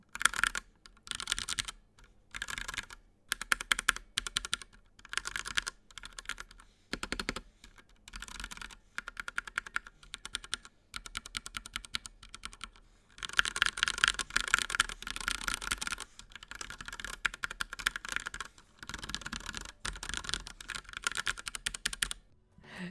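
Rapid, close typing on a gaming mechanical keyboard with Silver Switch keys: bursts of quick light clacks with brief pauses between runs, no voices.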